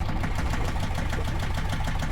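The inboard engine of the sailing boat Bedlam, which had earlier overheated, runs steadily with an even, rapid knocking throb, close and constant, with no voices.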